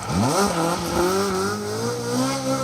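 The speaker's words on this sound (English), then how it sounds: "Jonathan Brace bringing us plenty of that in the braking zone there for this 90 right onto the tarmac here from the gravel" A rally car brakes hard for a ninety-degree right turn as it leaves gravel for tarmac, its engine note sweeping down and climbing again through gear changes, loud and close for the whole stretch.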